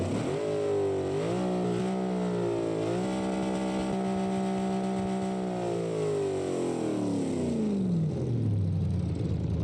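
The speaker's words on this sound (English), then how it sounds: "They even twist the chassis when you rev it." A Corvette fitted with a 21-litre engine in BeamNG revs hard, its deep droning tone rising, holding high, then sliding down over several seconds, loud and close throughout with no talking.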